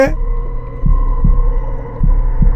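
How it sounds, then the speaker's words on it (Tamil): Deep, muffled heartbeat thumps from the horror game Demonologist pulse steadily over a low droning hum, a few beats spaced evenly and fairly loud. "ஹார்ட் பீட் துடிக்குதுங்க வேகமாக துடிக்குது ஹார்ட் பீட்டு ஏங்க துடிக்குதுங்க ஹார்ட் பீட்டு"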